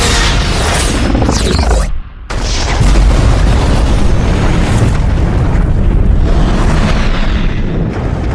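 Massive explosions from a torpedo strike in a sci-fi movie battle, loud roaring blasts and rumbling bursts filling the whole span with a brief drop in the middle, no speech.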